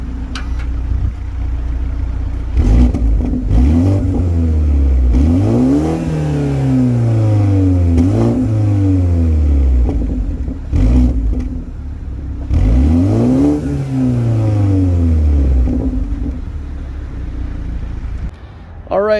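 A 2023 BMW 330i xDrive M Sport's four-cylinder engine revs repeatedly from idle, each rise sweeping up and falling back in a steady pattern of several blips, close and loud.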